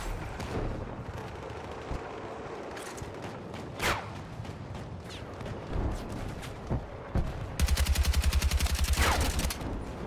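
Rapid gunfire rattles through a Battlefield 6 match: scattered single shots and bursts, then a fast, loud automatic volley near the end, over a constant low battlefield rumble.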